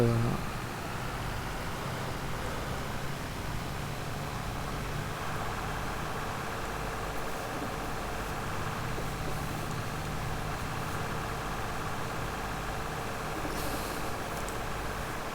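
A tractor engine runs in a farming video game, a steady, even drone with a low rumble that holds unchanged from start to finish.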